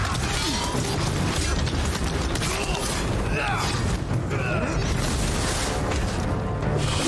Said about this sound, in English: There's a lot of explosions going on here.